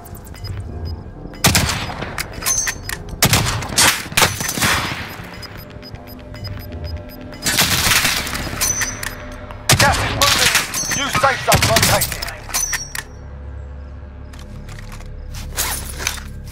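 Loud gunfire in the video game Warzone, with repeated sharp bursts and volleys of shots scattered over several seconds, some close and heavy, separated by quieter gaps.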